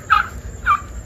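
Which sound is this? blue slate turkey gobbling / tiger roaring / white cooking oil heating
blue slate turkey gobbling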